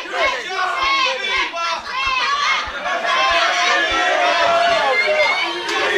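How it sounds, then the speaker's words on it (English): A crowd at a barn fight, loud and continuous, with many overlapping voices shouting and jeering and a steady babble that never lets up. "I can't understand a word what this crowd is saying"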